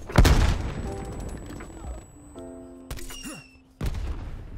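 Grenade launcher from the War Machine in Black Ops Cold War fires amid a loud gunfight, with sharp blasts and bursts at the start, middle and end over a low rumble.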